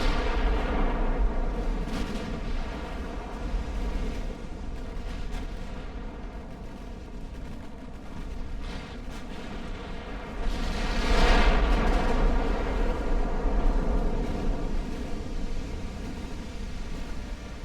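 Naval guns fire armor-piercing shells in Ultimate Admiral: Dreadnoughts, an 1890-era warship battle, heard as a steady rumbling wash of distant cannon booms with a louder swell of firing partway through and no talk.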